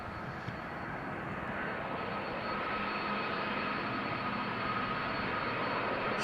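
A fixed-wing airliner departs Amsterdam Schiphol on runway 36L as its landing gear retracts, a steady loud engine roar heard from inside the aircraft, constant throughout.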